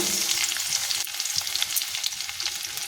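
Chopped garlic frying in hot oil in a pan for a soupy chicken curry: a dense, continuous crackling sizzle, close and fairly loud, with faint stirring scrapes underneath.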